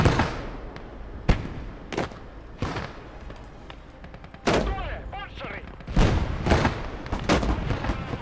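Gunfire rings out in a war video game, sharp sharp cracks and booming shots arriving irregularly about every second, some heavier blasts echoing, with a speaking voice briefly audible between them.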